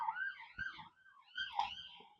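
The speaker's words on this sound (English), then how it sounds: "Sorry about all the ambulances and police and blah, blah, blah. We are in a city" Ambulance and police sirens wailing through a hilly city, a rising and falling two-tone siren repeating twice, fairly distant and faint, with no talking.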